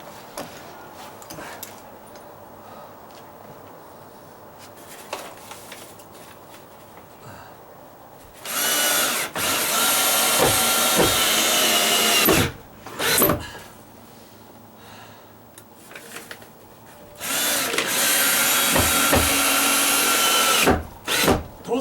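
A power drill drives 2.5-inch coarse-threaded drywall screws into wood during repair of a rotted stucco wall. Two long, loud whirring runs stand out, each with brief spurts around it and quieter handling between.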